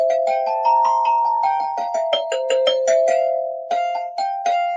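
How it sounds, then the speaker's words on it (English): A run of bright, ringing bell tones steps up and down in a steady melody, each note chiming clearly and sustaining into the next, with a short pause near the end. "So I'm going to grab my handy dandy step bells."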